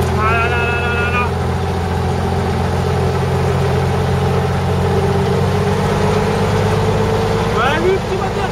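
A snowplow engine idles with a steady, heavy low rumble close by, continuous throughout, with a few faint high chirps over it.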